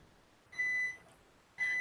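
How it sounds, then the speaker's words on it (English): A kitchen appliance gives two clear electronic beeps, about a second apart, each a steady high-pitched tone in an otherwise quiet room. "There goes the beep."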